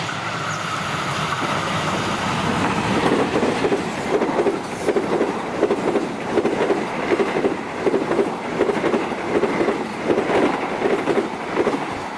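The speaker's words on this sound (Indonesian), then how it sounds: "Berikutnya kereta api Argo Cirebon 23F" The Argo Cirebon passenger train rolls past on the rails, a steady close rumble overlaid with a regular clickety-clack of wheels over rail joints that grows stronger partway through.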